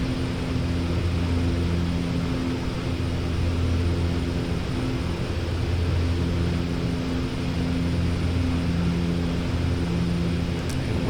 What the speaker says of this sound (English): our Bronco landing back at Kobuleti